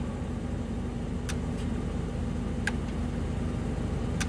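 A Jones & Shipman high-precision surface grinder runs its cross travel with a steady, close mechanical drone and low hum, a constant whirring bed with a few faint ticks and clicks on top, no voices.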